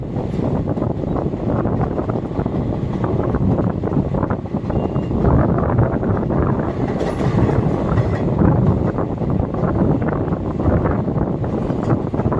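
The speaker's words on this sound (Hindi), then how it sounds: "ट्रेन चलने वाली है" The Rani Kamlapati–Adhartal Intercity train rumbles as it gets underway, a loud, continuous low roar with faint clatter and wind buffeting the microphone, heard up close from aboard.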